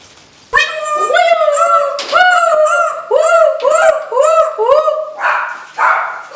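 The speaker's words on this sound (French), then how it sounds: "Ça fait aboyer le chien du coup." A dog barks repeatedly, close and loud, in a quick series of yappy, slightly whining barks with short gaps, ending in a couple of rougher, noisier barks.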